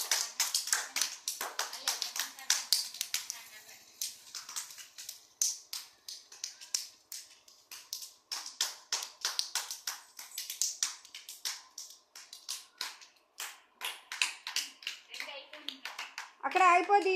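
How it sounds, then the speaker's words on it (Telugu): Young children at an Anganwadi centre clap their hands in quick, uneven bursts, close by, with children's voices chattering between the claps and a teacher's voice near the end. "చప్పట్లు కొట్టండి."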